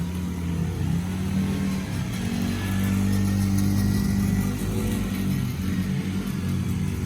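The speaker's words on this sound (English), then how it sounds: "They are obsessed with these new four-wheelers" Small four-wheeler ATV engines hum and rev steadily nearby on a backyard dirt track with a small jump, a continuous mid-pitched motor drone rising and falling slightly throughout, no talking.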